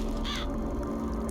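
A crow caws in Bioshock Infinite, a single harsh call rising briefly over a dense, droning game soundscape.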